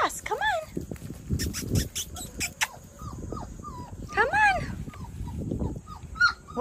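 Five-week-old British Labrador puppies whimper and yip in short, high-pitched bursts, close by, scattered across the stretch amid rustling and a person talking.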